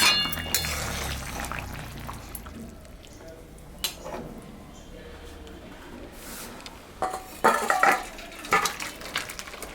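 A pot of gangkoi fish curry with potato, eggplant and radish comes off a kitchen stove, bringing scattered metallic clinks and clatters of cookware, close and moderately loud, with faint background murmur.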